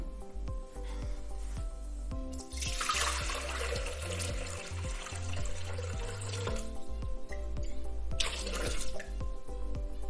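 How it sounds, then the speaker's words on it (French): Water pours steadily into a Thermomix bowl, about 800 grams' worth, a continuous splashing rush with a brief pause and a second burst near the end, heard close with no talking. "on va commencer par mettre de l'eau dans notre Thermomix, donc environ 800 grammes."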